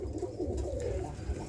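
A roller pigeon hen coos softly amid steady low background rumble, a faint murmuring call rising and falling over about a second and a half.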